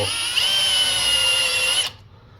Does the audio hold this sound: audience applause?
no